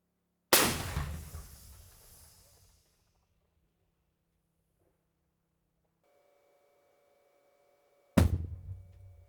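Two heavy blasts from a 2S1 Gvozdika 122 mm self-propelled howitzer, loud and close, each a sharp boom with a rumbling decay, separated by quiet and a brief electronic tone.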